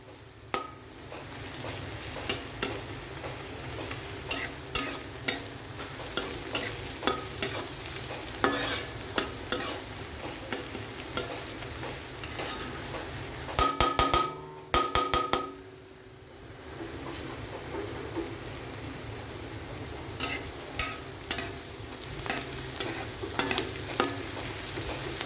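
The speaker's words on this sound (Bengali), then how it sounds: "আমি একের পর এক সবজিগুলো দিয়ে দিচ্ছি" Vegetables, including carrots, sizzle in a pan for a bun stuffing while a utensil stirs them in steady repeated scrapes and taps, with one brief louder clatter partway through.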